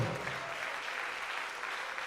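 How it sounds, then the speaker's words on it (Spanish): A church congregation applauds during a sermon, a steady wash of clapping heard at a moderate distance throughout. "Dele ese aplauso al Señor"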